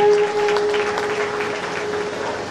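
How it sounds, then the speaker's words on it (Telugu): An audience claps steadily and loudly for an MLA walking onto the stage at a Christmas celebration in Balkonda. The applause is dense and sustained, then eases slightly toward the end. "వారు వేదికపైకి వస్తుండగా గట్టిగా చప్పట్లు కొడతాం."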